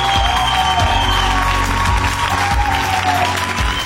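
A studio audience at an Armenian talent show claps loudly and steadily for the contestant Hrach, a dense wash of hand claps with some crowd cheering mixed in.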